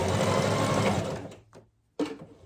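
Sewing machine stitching elastic onto a waistband: a close, fast mechanical whirr of running stitches that slows and stops, then a short restart burst.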